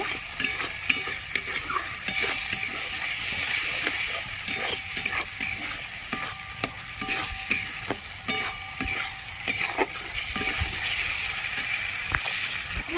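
Jackfruit and chickpea dal being sautéed in oil: a steady sizzle under repeated scraping stir strokes of a spoon against the pan, close and fairly loud.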